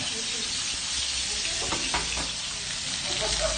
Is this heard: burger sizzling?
yes